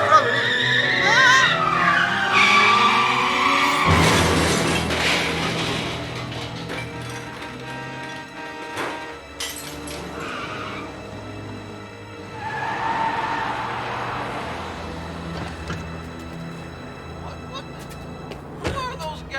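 A car skids with loud tire squeal and engine roar, followed by rumbling and clattering impact noise, while voices talk over parts of it.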